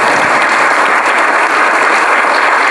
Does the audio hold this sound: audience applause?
yes